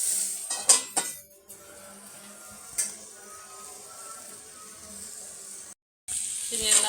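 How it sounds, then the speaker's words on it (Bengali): Bitter gourd and potato fry being stirred in a pan, a few sharp clanks and scrapes of a utensil against metal over a low sizzle, close, with brief gaps and a quiet stretch in between. "একটু পরপরই নাড়াচাড়া করতে হয়"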